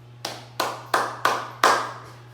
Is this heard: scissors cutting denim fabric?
no